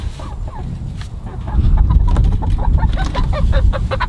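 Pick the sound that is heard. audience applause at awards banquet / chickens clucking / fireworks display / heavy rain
chickens clucking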